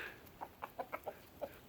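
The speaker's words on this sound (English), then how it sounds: "Roosters come to guard this side of his flock" Chickens cluck in short, quiet bursts, about six soft calls spaced irregularly, heard faintly near a rooster-guarded flock on a cold December walk.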